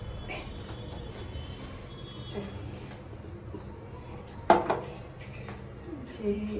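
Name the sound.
wok being placed, cooking pots and pans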